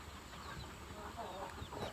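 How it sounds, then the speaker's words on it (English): Chickens cluck softly and intermittently on a farm, faint scattered calls over a low outdoor background hum. "These are fat chickens."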